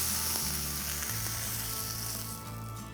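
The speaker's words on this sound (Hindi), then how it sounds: "अब इस मसाले के अंदर हम इस पनीर को डालेंगे।" Cubes of paneer tossed into a hot kadai of masala give off a loud, steady sizzle that holds for the full stretch and eases slightly near the end, with no talking.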